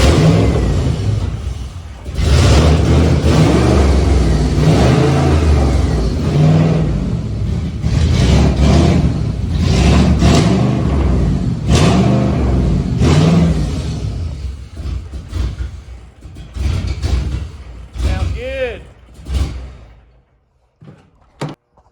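Spec Iron Mustang race car engine revving roughly and unevenly, running poorly with a suspected fuel or sensor fault, in repeated loud bursts that rise and fall over about twenty seconds before cutting off.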